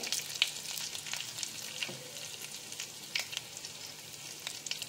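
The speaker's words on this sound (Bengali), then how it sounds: "এবার দিয়ে দেব গোটা জিরে ফোড়নে" Whole cumin seeds tempering in hot oil for a jackfruit-and-prawn dish, a steady crackling sizzle with scattered sharp pops, close and moderately loud, no voices.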